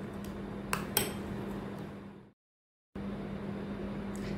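A spoon stirs hung curd capsicum dip in a bowl, with a couple of sharp clinks against the bowl over a soft steady background hum, then a brief silence before the quiet hum resumes.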